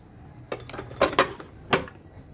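A pot of milk-boiled pitha lifted off a kitchen stove, giving a few sharp metallic clanks and scrapes spread over two seconds against quiet background.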